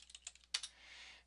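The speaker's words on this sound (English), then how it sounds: "giving it a name, typing it in, pushing enter." Someone types on a computer keyboard, entering a module name and pressing enter. About a dozen quick, soft clicks come close up and faint, then a brief trailing hiss.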